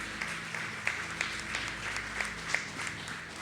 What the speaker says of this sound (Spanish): Que se oiga ese aplauso fuerte